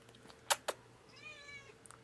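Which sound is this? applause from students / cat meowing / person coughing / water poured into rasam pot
cat meowing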